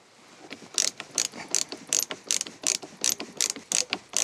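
A ratcheting screwdriver drives screws into curtain rail end caps inside a Volkswagen Caddy van, giving a close, quiet run of rapid evenly spaced clicks, about a dozen in a steady rhythm.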